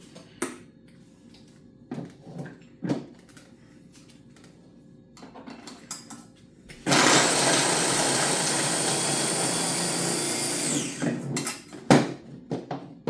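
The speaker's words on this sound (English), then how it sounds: "we're going to put this through the food processor" A food processor whirs loudly and continuously for about four seconds as it blends a block of butter with half a head of garlic, with scattered kitchen clatter before and after.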